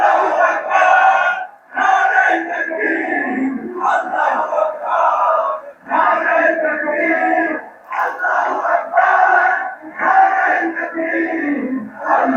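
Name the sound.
crowd chanting the slogan Nara-e-Takbir Allahu Akbar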